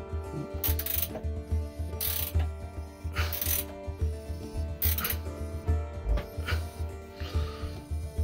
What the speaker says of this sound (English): So you're using the wrench to put that bolt in?